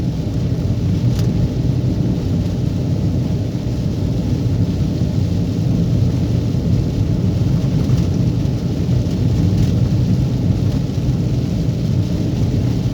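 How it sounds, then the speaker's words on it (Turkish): Steady, heavy spring rain in Mudurnu roars continuously with a dense low rumble, like a downpour heard close up, with no voices. "Nisan yağmurları geldi."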